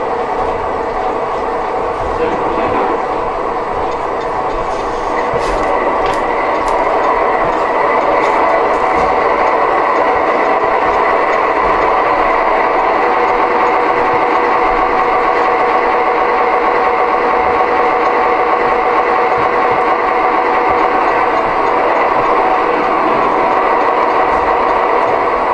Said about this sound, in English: Here's the RPM levels.